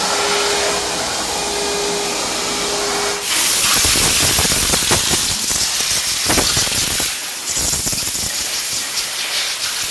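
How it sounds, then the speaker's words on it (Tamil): Pressure water jet spraying a new Tata Altroz during a water wash, bursting in as a loud broad hiss after a steady machine hum, with fluctuating spray surges, no talking. "தண்ணி அடிக்கிறாங்க பாருங்க"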